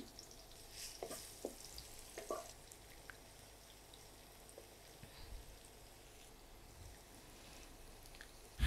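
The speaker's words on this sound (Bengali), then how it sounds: "এখানে আমি কিছুটা তেল দিয়ে দিয়েছি সেই জন্য, আর দিয়ে দিচ্ছি এখানে 2 কোষ রসুন কুচি আছে। এখানে একটা পেঁয়াজ কুচি," Chopped garlic and onion fry in oil in a pan, giving a faint, steady sizzle with scattered small crackles and a louder knock right at the end.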